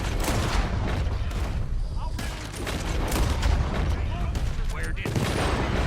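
Rapid gunfire in Red Dead Redemption 2 crackles in dense bursts of sharp shots and booms across the whole stretch, with a player talking over the shooting.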